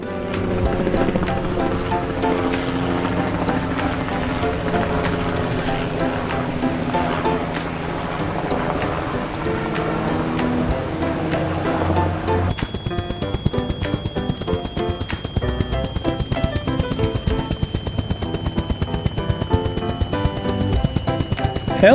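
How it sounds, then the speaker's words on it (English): A helicopter drones on steadily and loudly for the whole stretch, its rotor chop sharpening into a rapid, rhythmic beat partway through, with no voices over it. "Helicopter."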